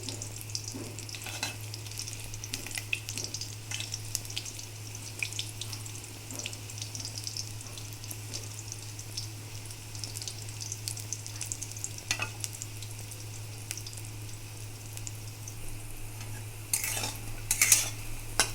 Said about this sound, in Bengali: আঁচটাকে কিন্তু মিডিয়ামে রেখে ভেজে নিতে হবে